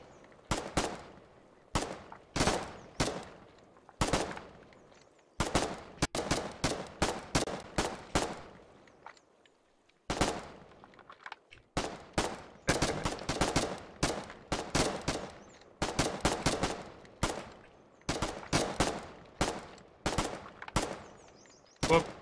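Close, loud bursts of automatic and rifle gunfire crackle in rapid clusters, with a brief lull partway, during a battle in the war game Foxhole.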